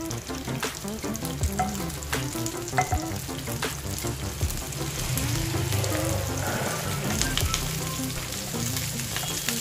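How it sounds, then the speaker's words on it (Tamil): A handful of curry leaves spluttering in hot melted ghee, a dense crackling sizzle with rapid pops that swells louder toward the middle and stays close and continuous. "இந்த கருவேப்பிலை நல்லா பொரிஞ்சு வரட்டும்"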